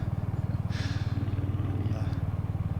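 A Royal Enfield Hunter motorcycle engine drones steadily while riding, a low pulsing rumble with a short whoosh of wind or passing noise partway through.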